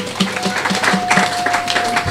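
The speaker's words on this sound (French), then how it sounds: "Applaudissez pour vous-même" Audience clapping at a French-language spiritual sermon, irregular and moderately loud, with a sustained tone and voices mixed in over the crowd.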